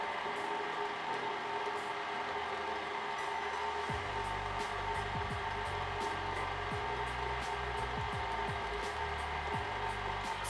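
An electric mixer runs steadily on a low setting while making a cacao powder snack, a continuous close motor hum with faint ticking and rattling from about four seconds on.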